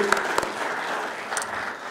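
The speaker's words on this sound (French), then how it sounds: "Oui, on peut l'applaudir aussi." Audience applause at a conference on green hydrogen in Morocco, a brief burst of clapping from a crowd in a hall, with a few sharper individual claps standing out over the steady patter, no talk.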